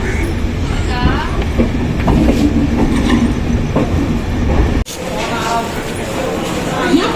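The Mysuru Express pulls into KSR Bengaluru station, wheels rumbling and clacking loudly and close, with a sudden break in the noise partway through while someone talks over it.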